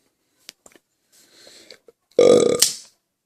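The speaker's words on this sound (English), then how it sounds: "I think I burped in my last video too." A loud, close burp rumbles for about a second after a few faint clicks and a soft sniff, sitting alone with no talk over it.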